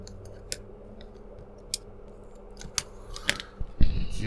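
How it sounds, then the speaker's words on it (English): Scissors trimming the excess ends off a strip on a doll's house, a handful of sharp, separate snips spaced out over a few seconds, close and fairly quiet. "we can go ahead and trim the excess off the ends"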